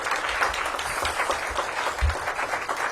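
An audience at a mayoral address about homeowner programs applauds the DHCD team with steady, moderately loud clapping that continues throughout, carrying the slightly distant sound of a room.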